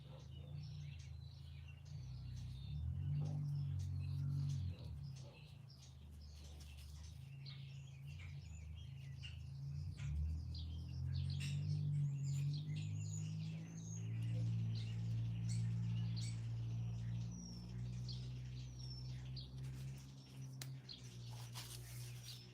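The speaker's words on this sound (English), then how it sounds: "Listen to that bird. That's up in the hayloft." A bird calls up in a barn hayloft, sounding as scattered chirps and trills, moderately distant, over a steady low hum and rustling in the barn.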